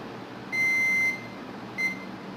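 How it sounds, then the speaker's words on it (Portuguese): A multimeter on continuity setting beeps while probing a capacitor on a mobile phone circuit board: one steady half-second tone, a pause, then a second shorter beep, clear and close over faint room hiss. "aqui não bipou e aqui bipou, significa que o capacitor tá ok"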